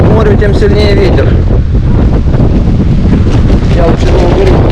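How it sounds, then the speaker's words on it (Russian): Strong wind by the sea at Lazarevskoye during a storm roars continuously and buffets the microphone, a loud, unbroken rush with gusty low rumble. "Чем ближе мы к морю, тем сильнее ветер."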